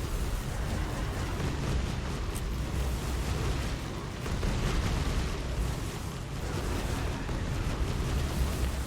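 Golems blow up crowds of enemies in the Soulstone Survivors game, a dense continuous wash of overlapping explosions and bursts at steady loudness, with no pauses.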